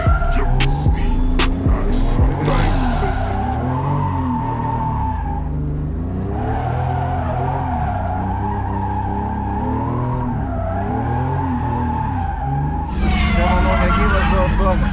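A street-racing car in Norway revs hard and drives off with a loud, continuous engine roar that rises and falls and has tire squeal, while a person talks throughout.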